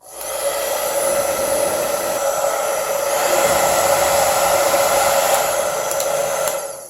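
A Vaslon 1875W infrared professional hair dryer runs steadily on its second heat setting, a loud, close, continuous whooshing whine that starts abruptly and cuts off near the end.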